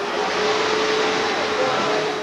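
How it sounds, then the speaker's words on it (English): Vacuum cleaners run flat out during an indoor vacuum cleaning race, a dense, unbroken whooshing roar at steady loudness for the whole stretch. "The Extreme Vacuum Cleaning Championship continues with the indoor events."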